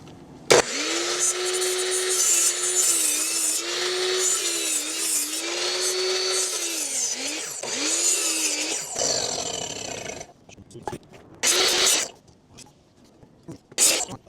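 A power saw whines steadily through wood for several seconds, cutting small pieces for a backyard chair, dipping in pitch as it cuts, then stops, followed by scattered clatter and handling noises.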